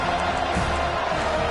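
Stadium crowd at a college football game roars steadily as a broad, dense wash of noise, with a commentator's voice faintly under it.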